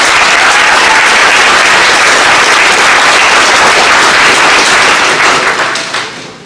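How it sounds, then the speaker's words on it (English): Loud, dense applause from an audience at a college graduation ceremony fills the space continuously, then tapers off toward the end. "So let's give them a round of applause."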